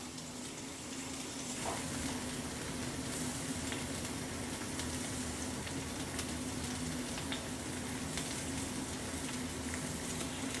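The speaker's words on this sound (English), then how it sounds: "we're going to let these basically sear up just a little bit until they're nice and gold on all sides" Pork tenderloin sears in a hot skillet, cooked until golden on all sides for a honey garlic dish, giving a steady, close, continuous sizzle and crackle throughout with no talking.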